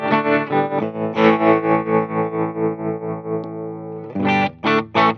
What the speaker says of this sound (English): The tremolo, which is the pulsing effect.